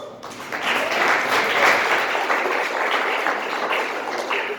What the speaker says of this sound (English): Thank you for the hand claps.